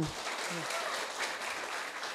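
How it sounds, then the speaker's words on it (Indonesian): Church congregation applauding at an evening prayer service, a moderate, sustained patter of clapping from a crowd, fairly distant and even throughout. "Tepuk tangan buat Tuhan."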